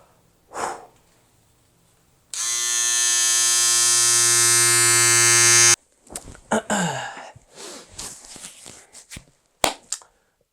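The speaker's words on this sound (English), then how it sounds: "if I was really trying to be ItalianBach, surely I'd just shave off my beard and have a moustache with a mullet" An electric shaver or trimmer buzzes loudly and steadily for about three seconds as a beard is shaved off, with a strong harmonic hum, followed by brief rustling and breathy handling noises.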